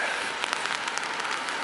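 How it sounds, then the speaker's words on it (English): Rain falls in a dense, steady hiss outdoors where someone walks among pigeons with an umbrella down, close and even throughout with no talking. "It's quite rainy."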